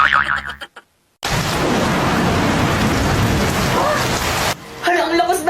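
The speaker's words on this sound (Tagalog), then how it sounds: "Hala, ang lakas ng ulan." Heavy rain pours down in a loud, steady roar for a few seconds after a sudden silence, then cuts off as voices return.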